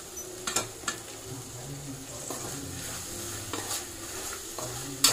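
Chicken curry stirred in a pan with a utensil, scraping and clinking against the metal over a steady low sizzle, with a few sharper knocks spread through the passage.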